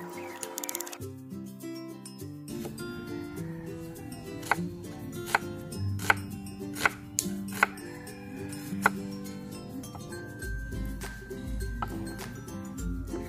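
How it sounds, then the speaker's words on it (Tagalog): A knife chops white onion and tomato on a board during outdoor cooking, a series of sharp, evenly spaced close taps over a low background hum, with a faint tone near the end. "nagahit na po natin itong ating sibuyas at kamatis"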